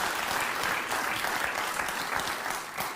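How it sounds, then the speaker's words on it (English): Studio audience applause on Bill Maher's talk show, steady, close clapping that lasts about three seconds and sounds like only a small group of hands, with no voices over it. "when you hear clapping on Bill Maher's show, it's generally his staff"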